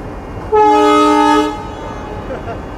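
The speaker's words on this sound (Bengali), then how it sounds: "আমাদের এই লোকাল যে বেতনা কমিউটার নির্ধারিত সময়ের 9 মিনিট পূর্বেই প্রবেশ করেছে" The Betna commuter train's horn sounds as it pulls in on the Khulna to Benapole line. A single loud, tonal blast lasts about a second, with softer station rumble before and after.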